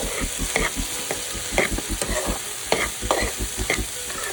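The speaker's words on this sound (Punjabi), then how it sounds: "ਆਪਾਂ ਹੁਣ ਅਨੀਅਨ ਐਡ ਕਰਤਾ ਹੈ ਇਹਨਾਂ ਨੂੰ ਚੰਗੀ ਤਰ੍ਹਾਂ ਦੇ ਨਾਲ ਮਿਕਸ ਕਰ ਲੈਣੇ ਆ" Onions stirred and fried in a kadai as the tadka for langar-style dal mash, with steady rhythmic scraping strokes over a continuous oily sizzle, close and fairly loud, no talking.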